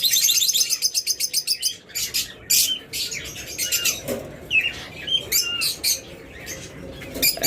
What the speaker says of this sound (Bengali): চমৎকার এক জোড়া পাখি